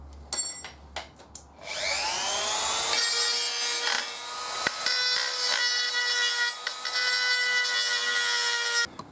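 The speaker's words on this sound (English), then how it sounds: "with a carbide burr I've taken all of the really high spots off the inside of the manifold here." A carbide burr cuts high spots from the inside of a custom turbo manifold for a 3RZ engine. After a few taps, a loud, high-pitched spinning whine rises, then holds steady with rasping chatter as it grinds.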